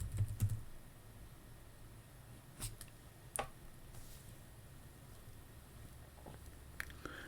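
Fingers typing on a computer keyboard in a quiet room, with scattered, sparse key clicks and a few louder taps in faint, close, steady background hum.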